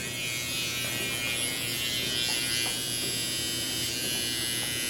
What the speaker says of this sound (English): So right now, with the trimmer, just kind of bringing it all down